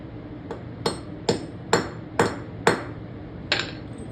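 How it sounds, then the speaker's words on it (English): A hammer taps a bolt while a winch is installed on a shop floor, seven sharp metallic strikes spaced roughly half a second apart, close and loud with short ringing after each. "Probably shouldn't have tapped that with a hammer."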